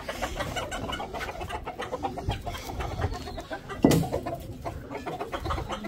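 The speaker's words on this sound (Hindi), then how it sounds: "और इन मुर्गियों को हम खोल देते हैं ताकि ये ज़रा घूम फिर लें" Chickens cluck and scratch about in a farmyard, with soft, scattered calls and one louder squawk, faint and fairly close with no talking.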